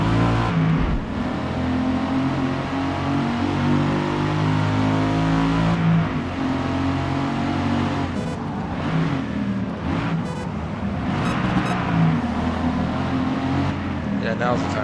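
A race car in the Forza Motorsport video game, engine droning and revving steadily with pitch shifts as gears drop, loud and continuous beneath someone talking.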